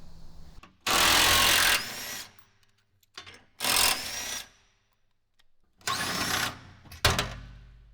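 Power tool driving a 16 mm socket on car support rail bolts during a Porsche 718 GT4 header install, three loud bursts of roughly a second each separated by quiet gaps, with a final short burst at the end.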